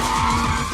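Tires skid loudly as a red Mitsubishi Evo drifts, a sustained screeching squeal over a rumbling engine in a brief, steady burst.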